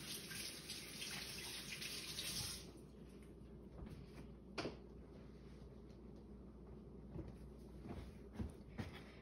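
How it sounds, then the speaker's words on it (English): Kitchen tap running while hands are washed, a soft steady stream of water for a couple of seconds, then quieter splashing and a few faint clunks in a hushed room. "Let me wash my hands up really quick."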